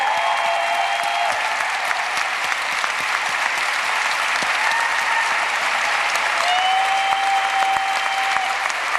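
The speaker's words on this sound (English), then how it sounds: "let's just give everyone a round of applause for being so brilliant and intentional and amazing" Sustained audience applause fills a convention panel hall in Detroit, dense steady clapping with a few cheers throughout, loud and close, running without a break for the whole stretch.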